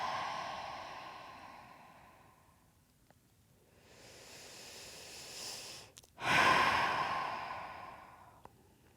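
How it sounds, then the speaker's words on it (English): Deep breaths drawn in and blown out through the mouth during a hip-focused flow yoga session, slow and close, with a long soft inhale and a louder, rushing exhale near the end. "take a few deep inhales, exhale through your mouth"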